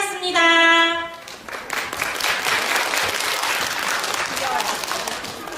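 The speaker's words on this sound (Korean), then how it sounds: "그래도 좀 박수 많이 좀 쳐주세요" Applause from the audience at a children's music academy concert, a dense steady wash of clapping that follows a brief sung or held tone at the start and carries on loud and unbroken to the end.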